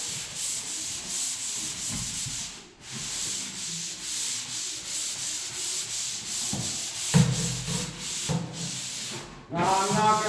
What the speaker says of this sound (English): I just want to sand the hard stuff so I can move these planks